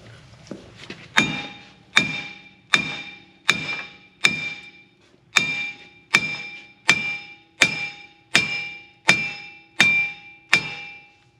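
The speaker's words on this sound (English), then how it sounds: "we should be able to just get it off with a hammer" A hammer strikes the front wheel bearing hub of a Ram 2500 in about a dozen sharp, evenly spaced metallic blows, each ringing briefly, loud and close with no talking.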